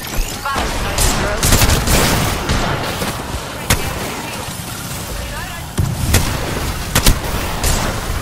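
Dense gunfire from the video game Apex Legends, with a steady roar of rapid shots, sharp cracks and booms scattered throughout and voices talking under the action.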